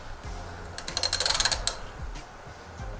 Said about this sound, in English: I have my cup wrench here with the 3/8 socket and the extension. Go ahead and pop that on there.